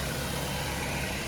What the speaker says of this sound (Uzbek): Motori mana o'zim hozir eshitib turibman